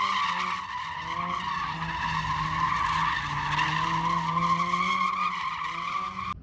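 A former race car, a manual 2016 Mazda MX-5, is being driven, with a steady engine drone and strong tonal tire or drivetrain whine holding loud and continuous from start to finish, no talking.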